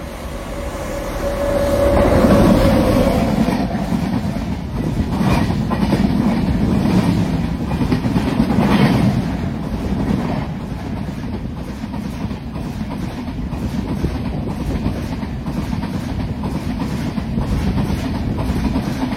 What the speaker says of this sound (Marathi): आपला पहिला क्रॉसिंग नेत्रावती एक्सप्रेस